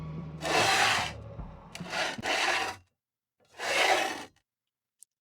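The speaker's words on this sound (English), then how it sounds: "Long, heavy scratches dragging against the inside the wooden door." Three long, heavy rasping scrapes drag across wood, loud and close, separated by brief silences, ending with a faint click.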